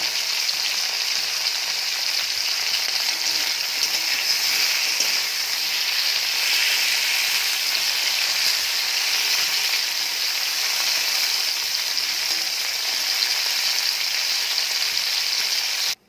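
Steady, dense sizzling of okra frying in a hot pan, a continuous crackling hiss that holds at an even loudness throughout with no voices.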